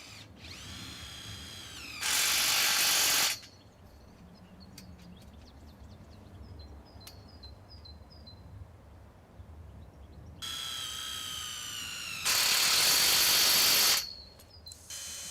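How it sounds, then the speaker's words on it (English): A tool tightens nuts and bolts on hoops adjusted along a ridge, heard as two loud, buzzing bursts of a couple of seconds each, separated by a long quieter stretch of faint clicks and handling noise. "tighten all nuts and bolts"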